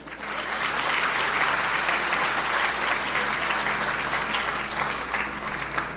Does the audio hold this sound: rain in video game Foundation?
no